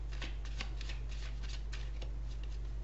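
A tarot deck being shuffled by hand, with repeated soft riffling card flutters in quick uneven bursts over a steady low hum, close and fairly quiet, no talking.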